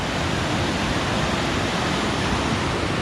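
Rock Creek rushes past in heavy flow, a loud, steady, broadband roar of water close by with no break and no voices.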